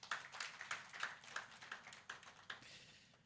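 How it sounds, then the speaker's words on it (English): Scattered applause from a modest audience at a tourism and hospitality event, a few hands clapping in an uneven, fairly faint patter that carries on for a few seconds. "A round of applause."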